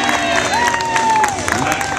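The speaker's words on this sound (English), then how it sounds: "Let's give him a round of applause, everyone" Theater crowd at Captain Jack's Pirate Tutorial show in Walt Disney World's Magic Kingdom, clapping and cheering steadily and close by, with a whistle-like tone rising and falling through the middle.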